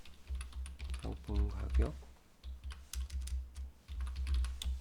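Typing on a computer keyboard while entering an Excel chart label, with a steady run of quick, light key clicks under someone speaking Korean.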